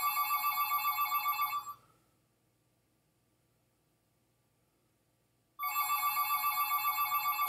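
An unanswered telephone rings from a scam call, a loud electronic ring lasting a couple of seconds, then silence, then the ring starting again, with no talking.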